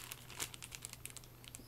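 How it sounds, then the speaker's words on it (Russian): Green plastic gift bag from MegaFon crinkling as it is handled, a steady stream of soft close crackles and rustles with no voices. "Вообще, сам пакетик сейчас еще раз покажу"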